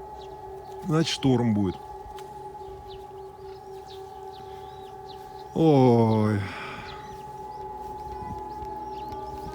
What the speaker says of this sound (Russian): Вот сирену включили.